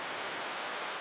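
Heavy rain pours down on farm fields as a steady, even hiss that stays faint and unbroken throughout, with no one speaking.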